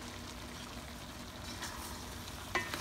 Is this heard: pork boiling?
yes